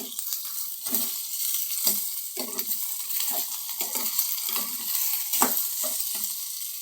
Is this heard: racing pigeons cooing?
no